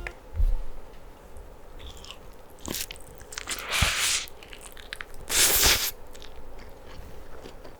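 Biting and crunchy chewing of buckwheat noodles (makguksu) eaten with pizza in an eating ASMR setting, with several close, loud bites and crunches spaced through the quiet, and no talk.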